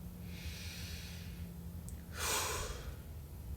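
A slow, deep breath drawn in softly, then a louder, airy exhale close to the microphone, with no talking.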